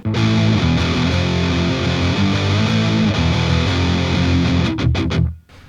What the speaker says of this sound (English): the pre-chorus sounds like this